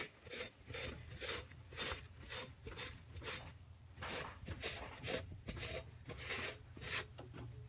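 A stoning block scrapes across a gasket surface on a 6.0 Powerstroke engine in quick, rhythmic back-and-forth strokes, a close dry rasping repeated about a dozen times with no talk.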